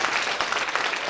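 Brief burst of audience applause at a civic dialogue event on social cohesion, a short patter of clapping at moderate, fairly distant level.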